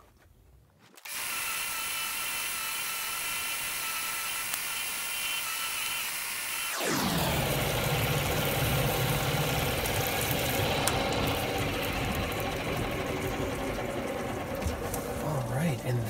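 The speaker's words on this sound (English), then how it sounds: "that, my dear friends, is 800 grit silicon carbide expandable drum on the Highland Park A-50" A Highland Park A-50 lapidary grinder running an 800 grit silicon carbide expandable drum on stone, spinning up with a steady whine and then settling into a loud, continuous grinding drone, close by.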